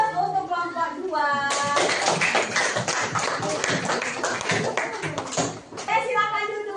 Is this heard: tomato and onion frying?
no